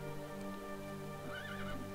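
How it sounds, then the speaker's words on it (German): A horse in Minecraft with the Mo' Creatures mod whinnies with a wavering, rising neigh over a steady tonal game background, fairly loud and unaccompanied by talk. "Und wir haben ein edles Ross."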